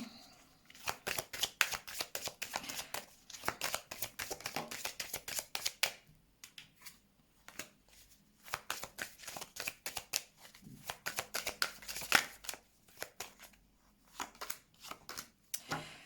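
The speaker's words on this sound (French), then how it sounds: "Je vais mettre des cartes sur ces échecs-là." Tarot cards are shuffled and laid out close by, producing quick crisp riffles and flicking bursts in clusters separated by short quiet pauses.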